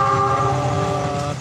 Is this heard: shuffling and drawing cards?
no